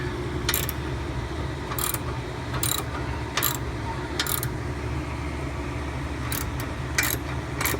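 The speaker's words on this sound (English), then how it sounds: "Jacking up the spring." A ratchet tool compresses the coil spring on a front shock of a Jaguar XJ8, giving short bursts of sharp clicking, about eight separate ratcheting strokes, over a steady low mechanical hum.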